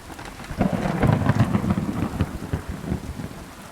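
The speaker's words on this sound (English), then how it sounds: "That thunder's very loud." Thunder in the video game Kingdom Come: Deliverance 2, a loud, deep rolling rumble over steady rain that swells and lingers across the clip.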